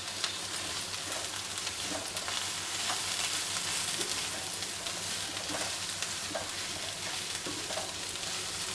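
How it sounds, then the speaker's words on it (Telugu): Thinly sliced onions fry in a heating pan with a soft, continuous sizzle and crackle, broken by occasional scrapes and stirring taps, at an even, moderate level throughout with no talking. "ఇది కొంచెం బాగా వేగాలి కొంచెం పెనం కూడా హీట్ ఎక్కాలన్నమాట"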